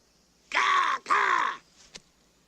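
Two loud, harsh raspy caws from a large bird, like a gull or crow, sound close together and near, followed by a faint softer call and a small click.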